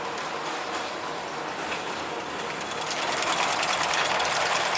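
A Resina U40 automatic capping machine runs on 440 volts with its guards open, giving a dense, even mechanical whir and clatter that grows slightly louder toward the end, with no talking.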